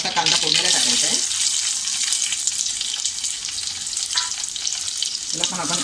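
Onion dropped into hot oil tempered with mustard seeds bursts into a loud, dense sizzle that settles into a steady frying hiss, with crackling stirring near the end, close by and without talk.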